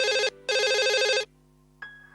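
A telephone rings in a domestic TV drama scene, two electronic ring bursts with a short gap, then a fainter tone starts after a pause, heard quietly with no talk.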